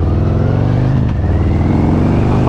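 A 2019 Harley-Davidson Road King Special motorcycle engine rumbles steadily at close range, a loud, continuous low-pitched V-twin drone while riding toward the highway.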